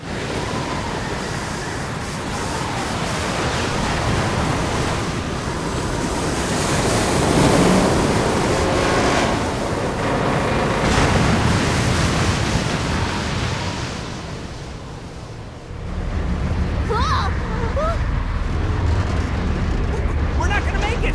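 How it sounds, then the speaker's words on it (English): Stormy ocean waves crashing against a stolen boat in the video game Lost Odyssey, a loud continuous roar of surf and wind that dips briefly before surging back, with faint game sounds over it. "The waves are gonna smash it to pieces!"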